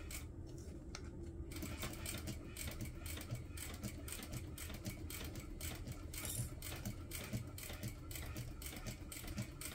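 A sewing machine stitches a skull-shaped pouch at a 4.75 mm stitch length, running slowly and steadily with an even mechanical chatter throughout, faint and close, with no talking.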